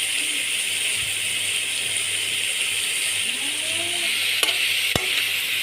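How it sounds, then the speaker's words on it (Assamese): Mushrooms and potatoes frying in a pan, a steady broadband sizzle running the whole time with a couple of sharp utensil clicks near the end and no talking. "এয়া মাছৰুম দি দিছোঁ আৰু গোটেইখিনি আৰু অলপমান ভাজিম"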